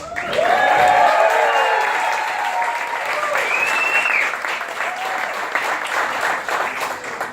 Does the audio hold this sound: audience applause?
yes